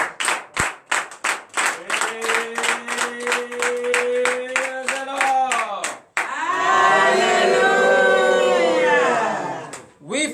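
A church congregation at a morning prayer in Benin claps in a fast steady rhythm while voices rise in a sustained shout, then swells into loud, continuous cheering and acclamation.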